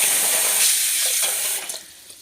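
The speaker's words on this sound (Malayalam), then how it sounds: "ശരിക്കും അത് പൊട്ടുന്നുണ്ട്. മുതിര പൊട്ടുന്നത് കാണുന്നുണ്ടോ?" Horse gram roasting dry in a pan for Kerala-style curry, a dense close crackle and hiss of popping seeds that thins out toward the end, with no talking.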